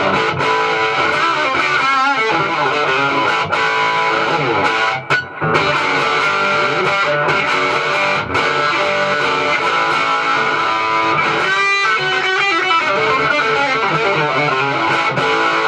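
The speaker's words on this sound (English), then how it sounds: "you're just hearing it through a JHS Angry Charlie, so just kind of a good mid-rangey distortion" An electric guitar runs through a JHS Angry Charlie distortion pedal, giving a gritty, mid-range rock tone as loud strummed chords and riffs ring out continuously for the whole stretch, with no talking.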